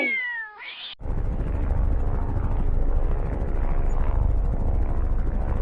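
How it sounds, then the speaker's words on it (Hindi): A cartoon cat-like whine cuts off, then a loud, steady roar from a falling cartoon helicopter's rotor drones on continuously for several seconds without voices. "ऊपर देखो, हेलीकॉप्टर गिर रहा है।"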